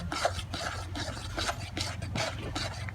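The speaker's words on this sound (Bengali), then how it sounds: "এবারে নেড়ে নেড়ে খুব সুন্দরভাবে একটা ডো বানিয়ে নেব" Semolina and water being stirred into dough in a pan, with a steady scraping and rasping rhythm of repeated strokes, close and fairly soft.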